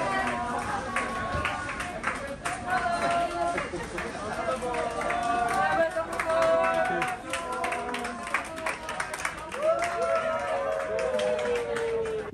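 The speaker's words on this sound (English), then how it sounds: "We were greeted with cheers and claps and welcomes from the staff." Cruise ship staff cheer, clap and call out greetings while boarding guests arrive, a lively continuous mix of voices and scattered applause lasting throughout.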